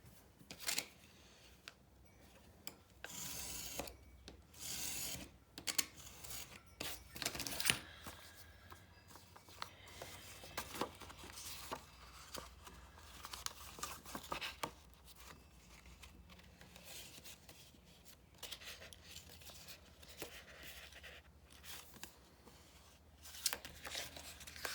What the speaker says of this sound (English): So this one I'm going to cut off the circles. Try to cut them straight.